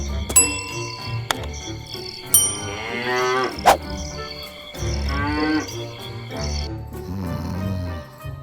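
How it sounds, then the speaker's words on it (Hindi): Buffalo bellowing loudly in a rural story scene, with repeated long, harmonic moos rising and falling across the clip alongside a few sharp ringing chimes, close and prominent with no talk over it. "भैंस जोर जोर से फिर चिल्लाने लगी।"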